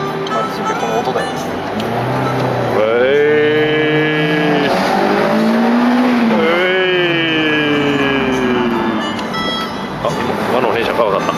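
Honda S2000 engine revving while driving on a road, a rising and falling harmonic whine that climbs through the gears and swells loud up close, with road noise and people talking over it.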